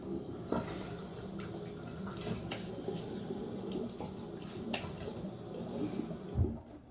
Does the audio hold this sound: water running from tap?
yes